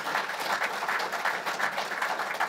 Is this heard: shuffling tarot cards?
no